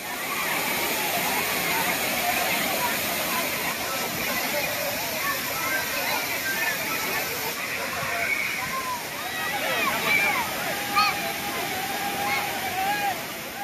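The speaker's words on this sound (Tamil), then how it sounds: "தொடர் மழை காரணமாக திருப்பரப்பு அருவியில் தண்ணீர் ஆர்ப்பரித்து கொட்டுகிறது" Water gushes down Thirparappu waterfall, swollen after continuous rain, in a dense, unbroken roar of rushing, splashing water that fills the whole scene at a constant loud level.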